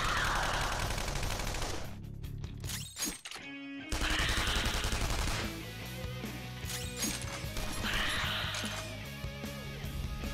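Gunfire in a Persona 5 battle: rapid, loud bursts of shots and impacts over game music, with a short crashing break partway through.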